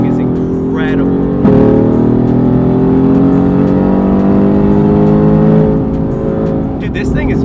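A Mercedes-AMG GT R is driven hard on a race track, heard from inside as a loud engine drone that climbs and sags in pitch through gear changes, with voices talking over it.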